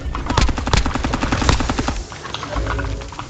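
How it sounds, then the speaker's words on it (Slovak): Gunfire in Call of Duty Warzone: rapid automatic bursts crack loudly and close for about two seconds, then give way to quieter rumbling game sound. "Pozor, strieľajú."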